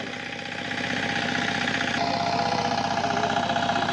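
A mini power tiller engine runs steadily at close range, its even mechanical drone and low knocking pulse continuing without a break and growing slightly louder after the first second.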